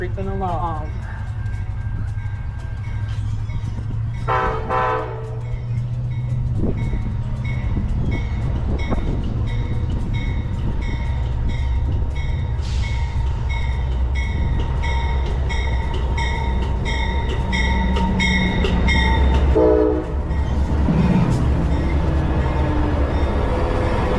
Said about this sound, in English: The 98 Silver Meteor making its way into Sebring Amtrak station. Creeping along.